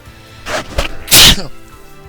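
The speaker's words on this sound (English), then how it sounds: "Oh god, I gotta sneeze." A single loud sneeze bursts out near the microphone, preceded by a couple of short sharp intakes of breath as it builds, then trails off into quiet.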